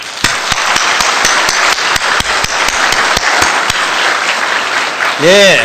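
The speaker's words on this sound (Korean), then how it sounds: "격려의 박수를 한번 합시다" A church congregation claps together in a firm, loud, evenly spaced rhythm that blends into continuous applause, and a voice speaks briefly at the very end.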